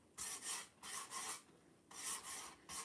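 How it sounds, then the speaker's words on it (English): A small finger sander works over a vintage wooden coat hanger in four short rasping bursts separated by brief pauses, close and fairly quiet. "Taking my little finger sander"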